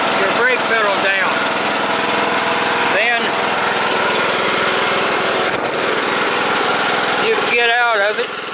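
Engine of a Troy-Bilt Pony riding lawn mower running steadily at a constant drone, close by, while someone talks intermittently over it.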